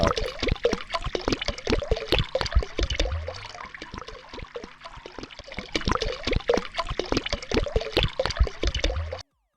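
Water poured from a canister into a car, a steady liquid gurgle and trickle running continuously for several seconds at close range with no talk over it.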